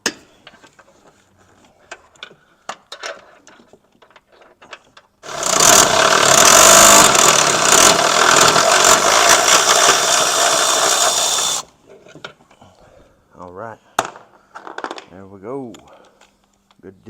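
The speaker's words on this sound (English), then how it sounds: "I think I can get this one with the electric ratchet too." An electric ratchet whirs loudly for about six seconds, loosening a control arm bolt on a 2012 Chrysler 300, with quieter clinks of tools and someone talking before and after.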